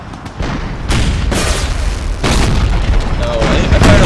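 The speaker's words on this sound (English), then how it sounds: "Both cannons fire on the howitzers." Cannon fire in an American Civil War strategy game, several loud booming blasts in quick succession with rumbling tails layered over continuous battle noise.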